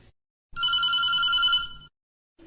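A telephone rings once with a steady electronic trill, signalling an incoming call to a farming advice radio phone-in; the ring lasts about a second and a half, loud and clear against silence.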